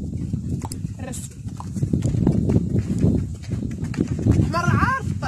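A donkey walks along a rural track, its hooves clip-clopping in a steady close rhythm under continuous rustling and movement noise, with a voice briefly audible near the end.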